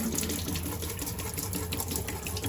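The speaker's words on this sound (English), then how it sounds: "Pour some antifreeze down the sinks." RV antifreeze poured down a sink drain in a seasonal washroom, a continuous close gurgling, splashing flow of liquid filling the basin and draining, with no one speaking.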